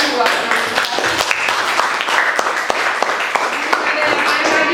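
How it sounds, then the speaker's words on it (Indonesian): A class of students gives a round of applause in a school classroom, a loud, steady patter of clapping with voices chattering underneath throughout. "Kita berikan tepuk tangan buat"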